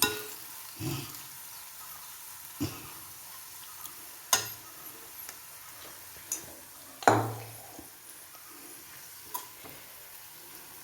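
Beef pickle stirred in a pan with vinegar and salt: a soft low sizzle runs throughout, broken by periodic scraping clicks of the spoon against the pan, moderately close and with no voices.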